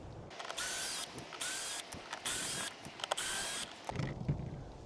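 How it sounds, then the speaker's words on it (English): T20 Torx screws are driven out of an F-150 third brake light housing with a power driver, several short whirring bursts separated by pauses and faint clicks, close and fairly quiet. "the first step is to take out the 4 T20 torque screws"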